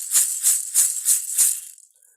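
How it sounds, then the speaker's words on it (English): A shamanic rattle for a healing session is shaken in five even, close, bright bursts of dry seed-like clatter, then it fades out. "I am going to be rattling"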